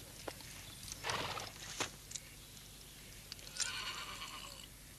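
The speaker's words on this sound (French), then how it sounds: "Il semble que votre cheval souffre." A horse whinnies and snorts in short bursts between quieter stretches, with faint hoof sounds and outdoor ambience, no voices present.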